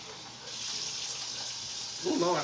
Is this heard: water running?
yes